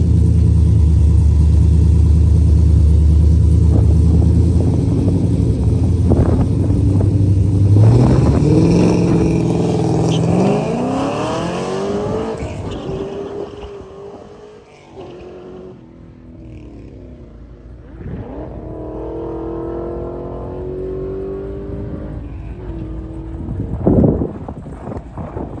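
A drift car launches hard down a drag strip, its engine roaring loudly and climbing through gears with rising pitch, then fading as it pulls away into the distance before a later rumble nearby.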